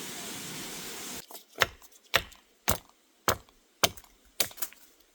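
Wood being chopped off the limb of a survival bow outdoors in the wilderness: a rough rasping scrape first, then six or seven sharp, loud, evenly spaced chops with short silent gaps between them.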